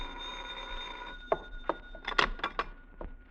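An old-fashioned telephone bell rings in a radio drama from 1949, first as a steady tone and then in several quick, fairly loud jangling bursts heard alone without speech.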